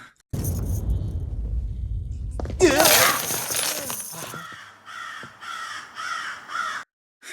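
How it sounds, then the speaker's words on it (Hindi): Crows caw in a series of harsh, evenly spaced calls near the end, following a loud rumble and a sudden shattering crash earlier in the scene. "कौवा का म्यूजिक दे रहा है सही में"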